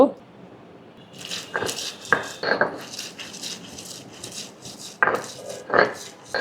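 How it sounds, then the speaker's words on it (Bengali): Shrimp being ground on a flat grinding stone for a jackfruit-seed mash, with scattered scraping, clattering strokes in uneven bursts, close by and moderately loud, over faint background noise. "এখন চিংড়ি মাছগুলো একটু বেটে নেব"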